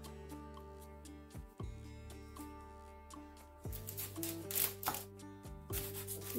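A knife cuts food to size on a board during prep for oven-cooked tilapia, giving faint, irregular chops and taps close by over a steady background hum.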